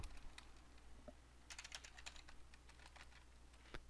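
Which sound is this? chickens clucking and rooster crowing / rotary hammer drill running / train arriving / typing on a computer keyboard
typing on a computer keyboard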